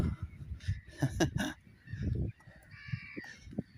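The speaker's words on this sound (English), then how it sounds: "These are the birds to look out for, and you can hear them over there having a right row." Harsh, raucous bird calls overlap in a noisy squabble at Rye Harbour, loud and close, with several birds cawing and honking over one another in bursts.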